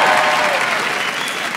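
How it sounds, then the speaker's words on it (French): A podcast audience applauds a comedian guest, a steady, close wash of clapping that fills the short moment. "Je vous demande s'il vous plaît un tonnerre d'applaudissements pour Monsieur Poulpe."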